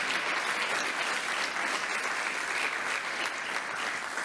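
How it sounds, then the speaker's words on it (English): A large crowd applauds New York state energy officials at a solar energy announcement by Governor Hochul, a dense, continuous roar of clapping held at an even level throughout. "Let's give them a round of applause."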